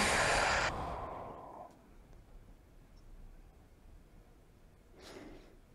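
A deep breath drawn in loudly and sighed out close up, followed by quiet, then a softer second breath.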